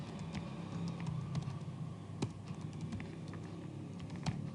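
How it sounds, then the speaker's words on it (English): Keys clatter on a computer keyboard in a quiet room, a steady patter of close keystrokes with a few sharper taps as entries are typed. "So I can type them myself."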